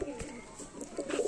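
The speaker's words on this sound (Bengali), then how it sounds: "এটা তোমার নর পায়রাটা আছে আর এটা তোমার মাদা পায়রাটা আছে" Pakistani Kamagar golden teddy pigeons, a male and a female, coo softly and close by in a few low murmuring bursts over a faint background hiss.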